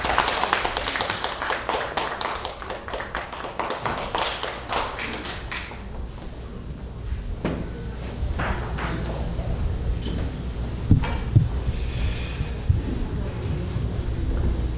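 Symposium audience applauding to welcome a speaker, scattered clapping that thins out after a few seconds, followed by taps, thumps and shuffling in the hall.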